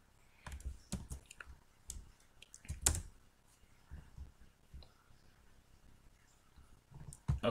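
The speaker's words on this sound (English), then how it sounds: "Double click" A computer mouse clicks in a few sharp, quiet taps spread unevenly over several seconds, close by in a quiet room, with faint soft talk in between.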